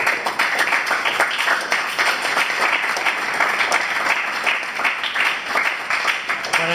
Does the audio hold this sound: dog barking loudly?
no